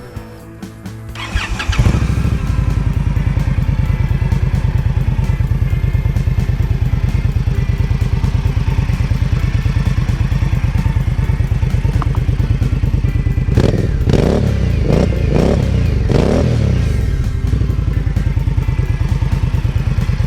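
An Indian Scout Sixty motorcycle fitted with slip-on mufflers starts up, then runs loud and steady with a deep, rumbling exhaust note, rising in a couple of revving bursts toward the end.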